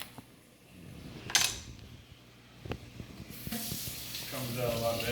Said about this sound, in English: Use a little bit of water just so that the chicken stays moist.